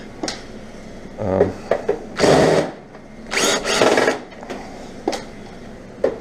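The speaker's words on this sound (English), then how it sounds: "I'm just pretty much going to start removing screws wherever I see them." A power drill backs screws out of an infrared quartz space heater in several short, loud bursts of whirring, with clicks and clatter of metal parts in between.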